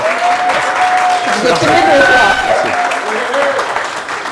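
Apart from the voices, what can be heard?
audience applause for a guest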